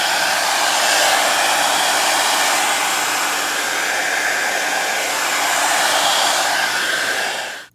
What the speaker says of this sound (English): now it's time to blow dry